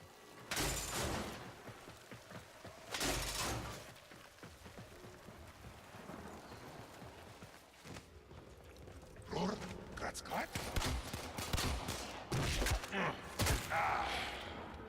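Gunfire in the video game Warframe comes as bursts of dense, crackling shots, with a couple of heavy blasts early and clustered volleys later, mixed with game sounds and speech.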